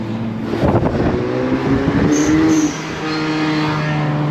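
A Lamborghini Urus fitted with a blow-off valve revs up close, the engine note rising and easing, with a brief hissing release near the top of the rev before it settles back to idle.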